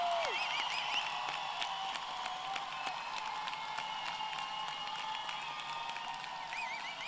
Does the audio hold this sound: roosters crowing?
no